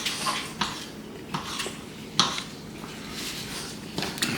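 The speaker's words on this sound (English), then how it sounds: "Just going to take the brisket and cut it up into small pieces." Brisket being cut into small pieces with a small knife in a home kitchen, several sharp knife taps and scrapes against a board or dish at irregular intervals, close and clear with no talking.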